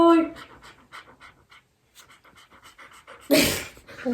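Close, rhythmic panting from a dog outdoors at a beer festival courtyard in Old Quebec, quick breathy bursts repeating steadily, with people talking nearby and a louder noisy burst near the end.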